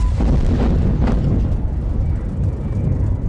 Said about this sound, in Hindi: साउथ लेबनान पर यह मिसाइल स्ट्राइक है